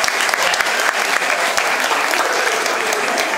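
An audience at a carnival costume contest gives loud, close, continuous applause, a dense crackle of many hands clapping with no break from start to finish.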